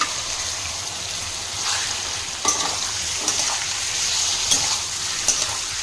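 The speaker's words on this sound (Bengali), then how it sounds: "তেল গরম হয়ে গেছে, এবার মাছগুলো আমি এতে অ্যাড করে দিচ্ছি।" Prawns fry in hot mustard oil in a wok, a steady bright sizzle with occasional soft stirring clinks and spatters, close and continuous with no voices.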